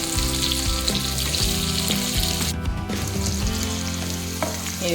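Onion pieces frying in oil in a home kitchen, a loud continuous close sizzle with occasional stirring scrapes, no talking.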